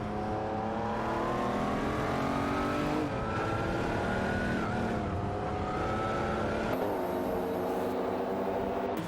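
Race cars in a video game, a Chevrolet Corvette C4 ZR1 and a Dodge Viper GTS ACR 99 battling for position, engines droning steadily and loudly with rising and falling revs as they shift through gears.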